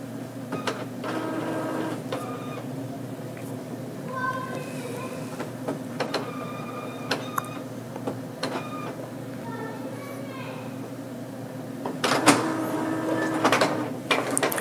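An Epson L805 or L1800 inkjet printer prints DTF onto PET film, with steady mechanical hum and whir, repeated clicks and sliding carriage shuttles, and a louder clatter near the end.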